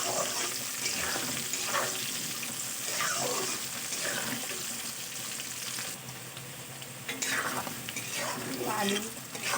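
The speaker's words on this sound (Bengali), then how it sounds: "আলু, পেঁয়াজ, লঙ্কা সব কিছু তেলের সঙ্গে খুব ভালো করে ভাজা ভাজা করে নিয়েছি।" Potatoes, onions and chillies fry in oil in a pan with a constant loud sizzle, and a spoon stirs and scrapes now and then, close up.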